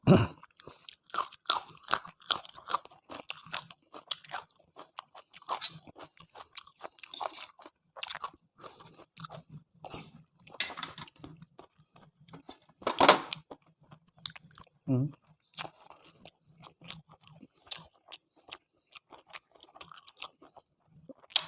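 Crunchy chewing and biting from someone eating spicy Thai beef soup with sticky rice, close and steady for a long stretch, one louder crunch partway through, no talking.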